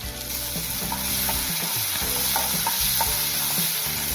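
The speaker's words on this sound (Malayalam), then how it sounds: "അപ്പോൾ നമ്മളൊന്ന് വഴറ്റിയെടുത്തിട്ടുണ്ട്" Steady sizzle of dal, dried red chilies and chopped tomatoes sautéing in a pan for chutney, with faint stirring scrapes recurring through the frying, close and continuous with no voices.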